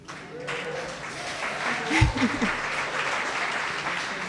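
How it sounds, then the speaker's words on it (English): An audience claps at a Women's History Month celebration in the East Bay. The broad, sustained applause swells slightly midway, with a few cheers and voices mixed into the crowd noise. "Round of applause, y'all."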